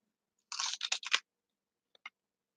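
Someone crunches raw cauliflower with hummus in a few quick, close, crisp bites bunched together, followed by a pause and two faint smaller crunches.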